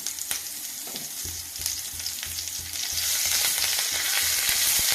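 Curry leaves fry in hot oil with a loud, crackling sizzle that swells and thickens partway through, and scattered pops and sharp spatters break through the hiss.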